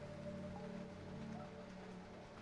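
Soft, steady rain patters in the video game Fallout 76, faint and continuous, with a low droning hum running beneath it.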